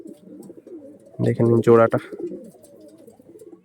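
Pigeons from a loft coo softly in low, murmuring calls throughout, while someone speaks loudly over them in the middle.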